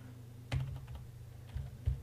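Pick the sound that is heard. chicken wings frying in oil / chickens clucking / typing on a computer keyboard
typing on a computer keyboard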